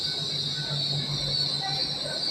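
A GWR Class 800 IET train pulls into a station platform with a steady rumble and a continuous high wheel squeal, heard up close.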